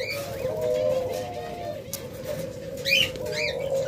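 Red-eyed albino budgerigars chirp and warble in sharp little bursts over a constant low hum, with a pair of brighter trilling calls near the end; nearby birds coo faintly underneath.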